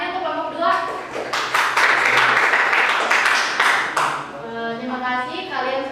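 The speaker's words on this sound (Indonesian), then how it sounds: "cepat sekali ya tepuk tangannya untuk kelompok dua" Quick round of classroom applause for a student group, dense clapping from many hands that swells and then tapers off, with children's voices chattering underneath and continuing as the clapping fades.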